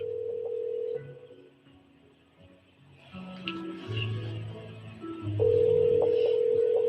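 A telephone rings out repeatedly on a call to reach a relative, steady electronic tones starting and stopping over a faint line hum, with no one answering yet.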